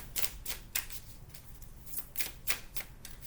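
A Lenormand oracle card deck being shuffled: a string of quick, crisp papery bursts, each riffle or slide brief and close, repeating in an uneven rhythm with soft gaps between.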